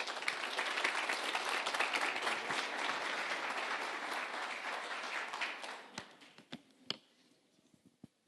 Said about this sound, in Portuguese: Recebam com uma salva de palmas Tom Ross.